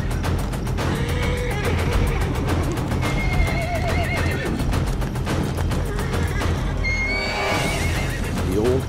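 Wild horses fight in the Gobi Desert, neighing and squealing loudly again and again over rapid hoofbeats and scuffling, with a narrator's voice running underneath.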